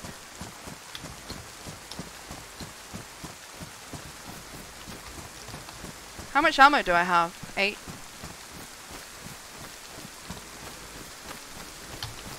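Steady rain patters throughout a DayZ match, an even hiss of drops with rhythmic footsteps beneath, while a voice briefly speaks over it midway.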